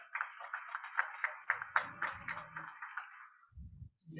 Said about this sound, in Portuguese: Uma salva de palmas, Sebastião Miziara